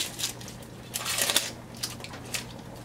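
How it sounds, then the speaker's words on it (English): Onions are cut into wedges with a knife for an Asian-inspired fish tea soup, giving a few sharp crunchy slices and board taps, close and distinct over a quiet kitchen hum. "I'll cut the onions now."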